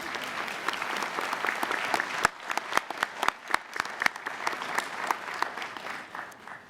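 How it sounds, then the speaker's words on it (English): An audience at a college convocation ceremony breaks into sustained applause, a dense wash of clapping that thins into scattered individual claps toward the end. "And now you can applaud."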